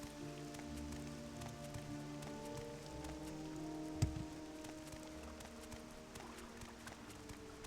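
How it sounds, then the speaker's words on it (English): Steady, faint rainfall in the video game Morrowind patters continuously, with a single soft thud partway through. "And it's still raining."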